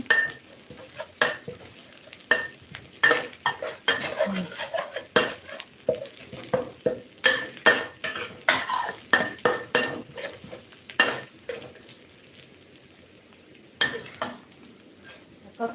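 Shallots and dried chilies stir-fried in a pan for a Thai liver and holy basil dish, with repeated scraping and clattering of a utensil against the pan over a soft sizzle, steady and close, pausing briefly near the end.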